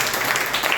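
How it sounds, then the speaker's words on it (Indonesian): A congregation at a Sunday worship service applauds, a dense, even roar of many hands clapping, loud and continuous through a very short stretch. "Tepuk tangan yang meriah."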